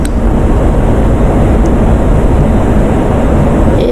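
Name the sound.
F-16 jet engine throttling up for takeoff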